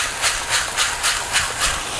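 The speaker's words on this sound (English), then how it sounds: "we keep a high heat when we're sauteing this beef" Ribeye beef strips for fajitas sauté over high heat in a pan, giving a steady close hiss with regular surging pulses of sizzle roughly every half second, with no voices.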